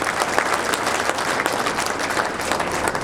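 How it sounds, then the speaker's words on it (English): Applause for the sound and lighting staff at a spring reunion reception: a steady, dense round of clapping from a crowd that holds at full strength for about three seconds, with no voices. "if we could give them a round of applause as well."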